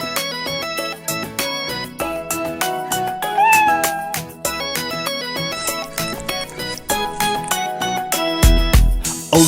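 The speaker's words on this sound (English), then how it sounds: "With a meow meow here and a meow meow there, here a meow, there a meow," Cat meows sound repeatedly over a bouncy children's nursery-rhyme backing track, with one rising, wavering meow standing out midway amid steady beats and a busier burst near the end.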